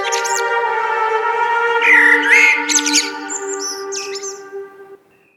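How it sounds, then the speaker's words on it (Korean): An oriole singing a clear, bright spring song, with loud chirps and whistled phrases over a sustained musical backing that fades out at the end. "꾀꼬리는 봄날의 아름다움을 노래하며 청아한 새옥성을 뽐냈어요"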